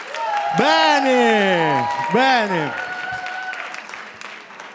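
An audience applauding at the opening of a stand-up comedy show, the clapping a broad wash beneath loud, drawn-out vocal calls and a voice speaking over the crowd.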